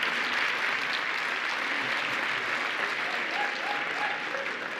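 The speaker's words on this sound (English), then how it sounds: "I think you heard people applauding and here in San Sebastian, so welcome." Sustained applause from an audience at an international vocational training conference in San Sebastian, a broad even wash of many hands clapping at a steady level throughout.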